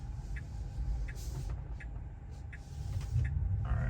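A car driving on the road under FSD Beta gives a steady, low interior rumble, with faint periodic ticks above it and rising road noise toward the end.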